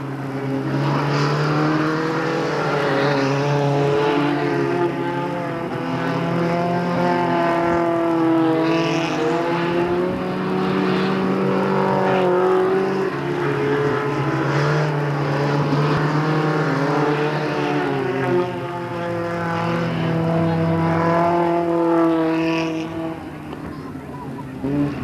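Race cars roaring around the oval on the final lap at Delta Speedway in 1997, a continuous loud drone of engines rising and falling as they pass, with an announcer talking over the noise.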